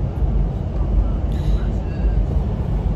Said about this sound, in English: I just wanted to show you that we're on the train.